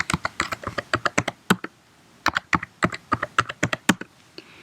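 A password typed on a computer keyboard during a Raspberry Pi Jupyter Notebook setup: close, crisp key clicks in two quick bursts separated by a short pause, with no talking.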